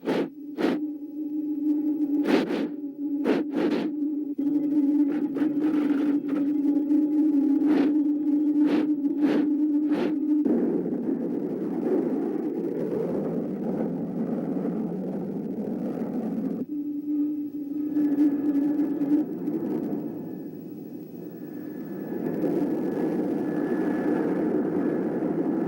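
A cartoon spaceship sets down on a landing pad with a sustained electronic hum that gives way to a broad whooshing roar, punctuated early by sharp pulses and staying loud throughout.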